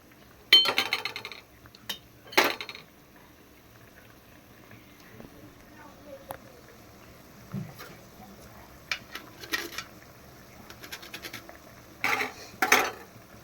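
A paneer and egg curry simmers in a pot while a spoon stirs it, with irregular metallic clanks and scrapes against the pot over a soft bubbling background.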